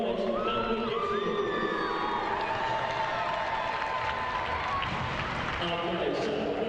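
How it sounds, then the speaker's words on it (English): Crowd at an under-12 school football final cheering and clapping for Wright Robinson College and Whitgift School, a loud, sustained mix of applause, children's shouts and whoops, with voices talking throughout. "Please give a massive round of applause to both Wright College and Whitgift."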